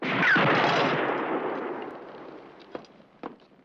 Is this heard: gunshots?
yes